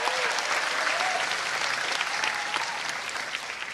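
A theatre audience at a Jakarta festival applauds Ganjar Pranowo, a dense, sustained wash of clapping from a large crowd that stays loud throughout, with faint cheering mixed in.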